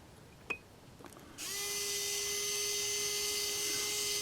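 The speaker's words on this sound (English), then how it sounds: "I want to drill right down through just a little bit" A power drill spins up and runs steadily, boring into the step of a Proto2000 GP30 model locomotive, with a close, continuous high whine after a couple of faint taps.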